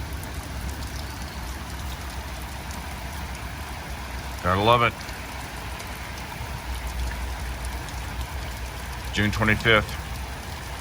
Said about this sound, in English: Oh my Lord, is it raining like crazy?